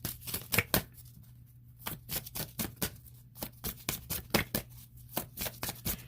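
Oracle cards are shuffled and drawn, giving a run of sharp, papery riffles and snaps in irregular bursts with short pauses, close and fairly crisp, over a faint steady hum, with no voices.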